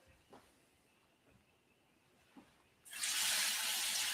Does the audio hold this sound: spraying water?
yes